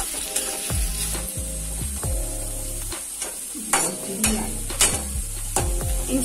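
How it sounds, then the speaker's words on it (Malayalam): Ginger frying in oil for a Kerala-style ginger curry, a steady sizzle with repeated scraping, stirring strokes and a few sharper clinks of a spoon against the pan, close and fairly loud, no voices. "ഇഞ്ചി നമുക്ക് നന്നായി ഒന്ന് മൂത്ത് കിട്ടണം ട്ടോ."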